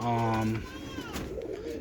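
Young roller pigeons cooing in a loft, a few low, warbling coos close by at the start, then fading into softer background noise.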